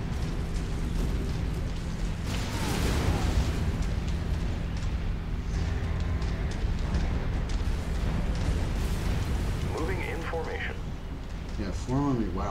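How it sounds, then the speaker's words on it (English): Weapon fire and heavy booms rumble through a dense, continuous battle soundscape in the Mechwarrior 5 mech combat game, with deep explosions and crackling bursts overlapping and warbling electronic effects rising near the end. "I just heard something shoot at us."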